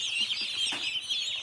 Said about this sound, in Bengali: দেখো আমাদের মুরগির বাচ্চা চলে এসছে